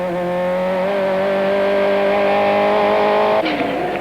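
Modified racing car lapping Killarney circuit in 1994, heard from onboard: a loud, sustained high engine howl with rich steady tone, then a sudden gear change near the end as the pitch drops and settles.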